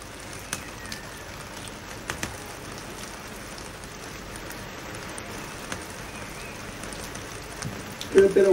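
Steady, dense hiss of heavy rain pouring down outside, with a few faint knocks and a brief louder rustle near the end.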